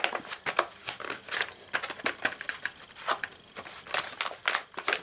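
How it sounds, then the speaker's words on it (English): Scissors snip and crinkle through plastic packaging around a Wonder Woman collectible figure, a quick irregular series of close, sharp cuts and rustles with no talking. "Scissors."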